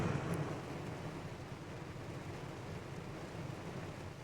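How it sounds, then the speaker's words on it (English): Pouring hurricane-like rain drums on the outside of a minivan, heard from inside as a steady, muffled wash of noise with a low rumble, fairly faint and continuous with no voices. "You hear this rain? There's rain."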